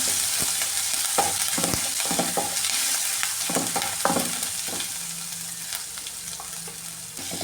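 Crushed ginger and garlic frying in hot oil with mustard seeds, a constant close sizzle dotted with frequent spatula scrapes and light crackles throughout.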